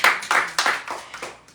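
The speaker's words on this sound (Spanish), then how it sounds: "Denle un aplauso al Señor." Several sharp hand claps from a church congregation, a short uneven burst of loud nearby clapping that thins out over a second and a half, with no talk.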